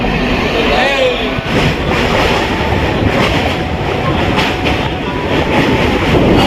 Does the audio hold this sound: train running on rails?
yes